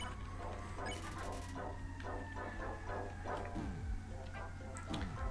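A dog barks repeatedly in short bursts over a steady mechanical hum, with some clattering and whining yips mixed in.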